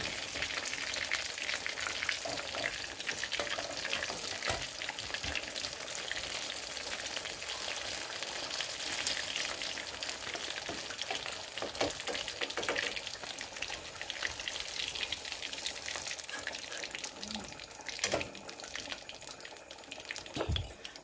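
Chicken pakora frying in oil over a low flame: a steady, dense sizzle with fine crackling and popping that runs unbroken throughout, with no voices over it.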